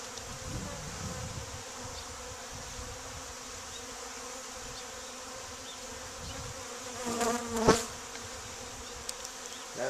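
Honey bees buzzing at an open hive during a spring inspection after being blown on, a steady droning hum of many insects close by with a few louder passes near the end.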